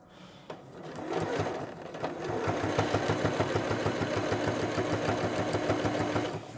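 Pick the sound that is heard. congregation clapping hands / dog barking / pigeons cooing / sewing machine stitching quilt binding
sewing machine stitching quilt binding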